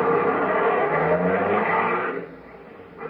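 A car in an old 1941 radio comedy drives off, a loud sustained engine and tire rush that fades after about two seconds into quieter background.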